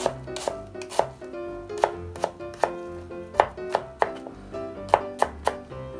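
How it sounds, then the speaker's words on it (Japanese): A chef's knife minces on a small cutting board in quick irregular bursts of sharp, close taps, several chops clustered together with short pauses between, with no talk. "僕の切り方というか、まあある程度みじん切りする切り方というか"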